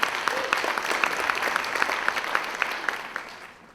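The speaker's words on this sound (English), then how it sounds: "she deserves a round of applause." Audience at a reconciliation dinner event in Australia bursting into sustained applause, dense steady clapping from a large crowd that fades out at the end.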